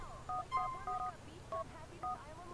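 Mobile phone keypad dialing in the video game GTA IV: a series of short, clear DTMF tone beeps in irregular clusters, moderately loud over a low, steady in-game background rumble.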